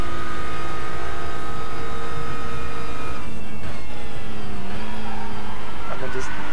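TCR touring car in the RaceRoom racing game, its engine holding a steady high drone that rises and falls through gear changes, loud and continuous with no talk.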